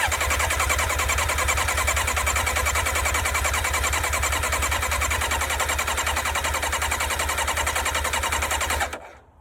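Old motorcycle engine cranking and failing to start at half choke, a fast rhythmic chugging turnover repeating steadily for about nine seconds before stopping abruptly, close and loud.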